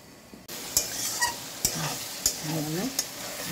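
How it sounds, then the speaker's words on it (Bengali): Mutton for biryani sizzles steadily in a hot pan while a spoon stirs it, scraping in regular strokes about every half second over the continuous close frying hiss. "এটাকে জাস্ট কষতে থাকবো"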